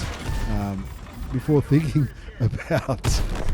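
Tank cannon shots in World of Tanks, fired into a tier 8 French medium tank, two short booming reports standing out against steady game noise and a voice talking throughout.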